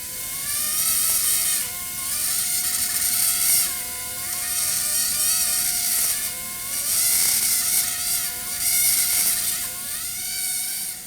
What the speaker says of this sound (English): It may sound like a dentist office, but this is the paleontology laboratory